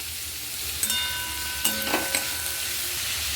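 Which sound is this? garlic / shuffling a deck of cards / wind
garlic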